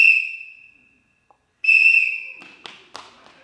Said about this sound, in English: Now, here's your whistle.